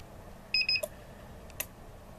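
A short run of three crisp electronic beeps comes from an RFID keypad access control key switch as it disarms an alarm. A faint click follows in an otherwise quiet room.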